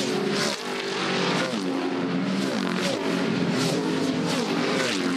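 Old touring cars of the Touring Car Masters race at high speed along Conrod Straight at Bathurst, engines roaring loudly and continuously with rising and falling pitch as several cars power past together.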